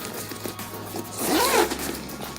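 Zipper on the pocket of a Scully Darren expandable workbag being pulled, a short rasping zip that builds and fades within about a second, close and clear over quiet room tone.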